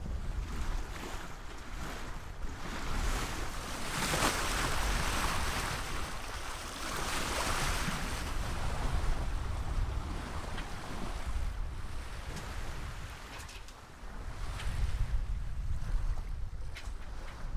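Steady rush of water and wind around a sailboat under full sail at sea in the Atlantic, a continuous broad wash with gusty swells and no voices.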